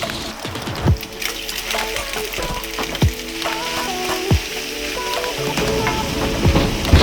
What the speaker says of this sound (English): now that the ground beef has been cooking back here